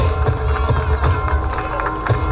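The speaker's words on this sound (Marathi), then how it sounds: "टाळ्यांचा कडकडाट झाला पाहिजे" Audience applause at an award ceremony honouring a recipient of the Lahuji Vastad Salve award, a continuous dense clatter of many clapping hands with voices mixed in.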